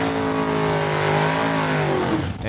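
A dragster makes a quarter-mile run at Saskatchewan International Raceway in Saskatoon, a loud sustained engine roar with harmonics sliding as it accelerates, fading near the end, with no talk.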